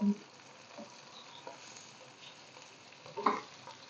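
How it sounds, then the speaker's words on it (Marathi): Semolina-coated fish pieces frying in a pan, a soft, steady sizzle with faint crackles and a brief louder clatter near the end. "हे बघा छान झालेले आपले मासे फ्राय झालेले"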